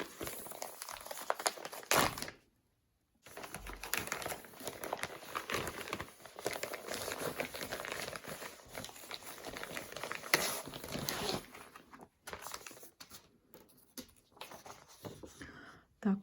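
Crinkly plastic packaging of a diamond painting or cross-stitch kit rustles and crackles almost continuously, with a brief pause and a few soft handling sounds, recorded close.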